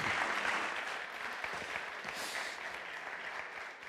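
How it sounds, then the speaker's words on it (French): An audience at a round-table session on the RE 2020 building label applauds its panel speakers in a steady, dense patter of clapping that lasts throughout at even strength. "Vous pouvez les applaudir une nouvelle fois."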